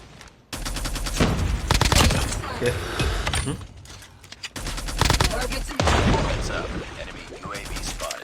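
Rapid automatic gunfire in the video game Call of Duty Mobile with a DR-H rifle, long loud bursts of rattling shots broken by short pauses, with game sounds and a voice talking faintly underneath.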